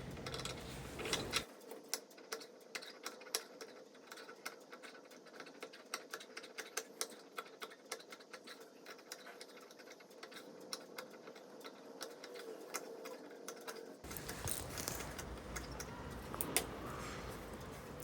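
Sewing machine stitching lehenga main fabric and lining together, a steady fast needle chatter running close and continuous at low level. A brief pause interrupts it near the start and again near the end.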